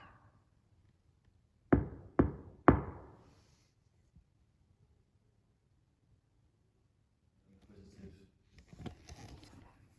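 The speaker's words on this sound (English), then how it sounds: "If I knock, can you knock back?" Three sharp knocks in quick succession, loud and near, inside Antwerp Mansion in the UK, followed by long quiet and then faint scattered rustling and distant sounds.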